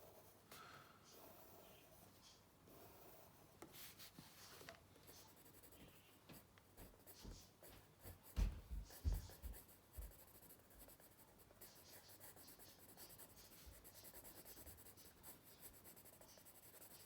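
Pencil shading a perspective sketch of a wooden table on paper, soft close scratchy strokes in bursts, some louder rubbing in the middle, with quiet breathing and no speech.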